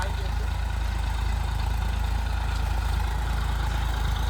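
A Massey Ferguson 1035 tractor idles at a farm field, a steady low rumbling engine throb that holds constant throughout, close and fairly loud.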